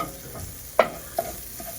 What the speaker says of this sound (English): I'm cooking the pan sausage like ground beef